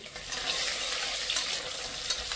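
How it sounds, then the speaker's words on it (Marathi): Long onion slices fry in hot oil in a home kitchen pan, a steady, even sizzle with a soft hiss throughout and no talking. "हे काप तेलात टाकून व्यवस्थित तळून घ्यायचे आहे"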